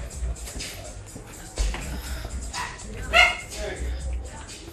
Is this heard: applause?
no